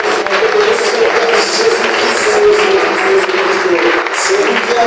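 A church congregation cheers and applauds loudly and continuously, a steady wash of clapping mixed with many raised voices, with no pauses.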